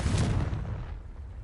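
A Confringo blasting curse goes off in the video game Hogwarts Legacy: one loud, booming burst with a heavy low rumble that fades away over about a second and a half, with no talking.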